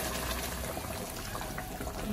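Hot water pours into ghee-fried rice in a pot, a steady rushing, bubbling hiss of liquid filling the pan, close and continuous for a couple of seconds.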